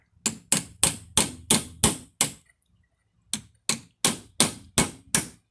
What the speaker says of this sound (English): we're tapping the old rivets out